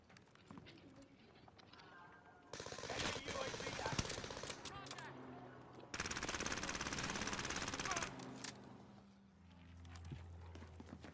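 Enemy gunfire in Call of Duty: Modern Warfare, with dense bursts of rapid shots in two long volleys separated by a brief lull, loud and close, set against background game noise and rumble.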